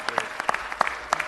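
At a city council meeting, a small audience gives scattered, sparse claps, a few distinct hand slaps spread unevenly over a short moment.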